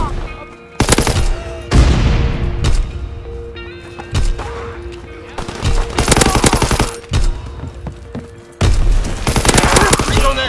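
Pistol gunfire in a World War II shooter game comes in loud, close bursts of rapid shots separated by short pauses, with game noise between volleys.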